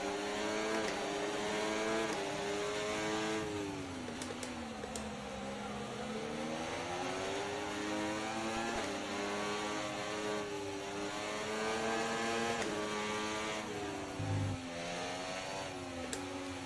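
F1 24 Formula One car engine racing at high revs, a continuous loud whine with repeated rising and falling pitch sweeps through gear changes, other cars droning nearby, no talk.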